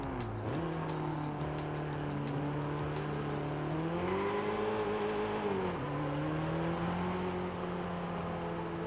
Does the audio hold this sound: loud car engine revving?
yes